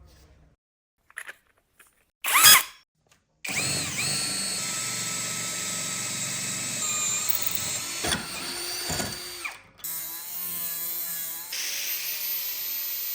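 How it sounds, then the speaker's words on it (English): A power drill fitted with a 40mm diameter bit bores a hole through the center of a metal lid for a bio stove, giving a steady loud whirring grind for several seconds after a few short bursts, then briefly stopping and restarting. "Now using a 40mm diameter bit, we'll drill a hole in the center."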